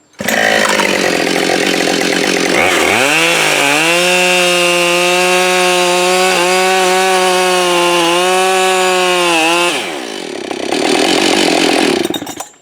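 A gas-powered chainsaw cuts wood at full throttle with a loud, steady, high-pitched whine. The engine note dips as the cut ends, then revs up again. No talk.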